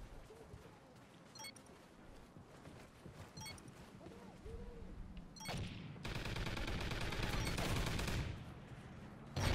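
A sentry gun in Call of Duty Ghosts fires in bursts, scattered shots first and then a dense, sustained stream of rapid gunfire near the end, with game noise and occasional voices around it.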